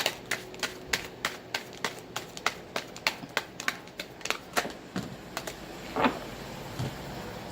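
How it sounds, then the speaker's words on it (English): Tarot cards being shuffled and pulled, a string of crisp, sharp taps and snaps from the cards, close and fairly quick at first, then a softer shuffling rustle toward the end. "Let's pull a few more cards."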